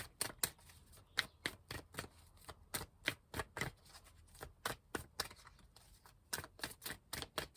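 A tarot deck is shuffled in a rapid series of crisp, close riffles and snaps, repeating in an uneven rhythm with short pauses between bursts.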